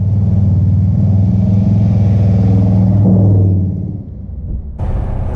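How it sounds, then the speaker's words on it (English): A 1946 Oldsmobile custom car with an isolated dual exhaust revs close by, its deep, steady rumble holding strong before dropping away and then picking up again at the end. "The exhaust is dual and it is isolated, which again was part of my client's vision for the exhaust sound."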